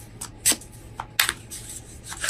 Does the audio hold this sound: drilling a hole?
no